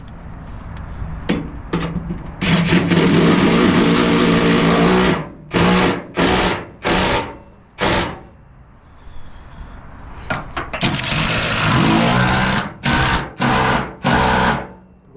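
A Ryobi power tool runs during a fuel pump install on an HD Circuitry kit, whirring loudly in long continuous stretches, then in a rapid series of short on-off bursts, close up and with no talk over it.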